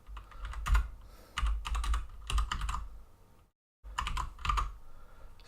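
Close, clattering keystrokes on a computer keyboard in bursts of typing, with one short pause before the tapping resumes; no voices.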